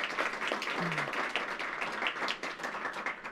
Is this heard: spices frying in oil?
no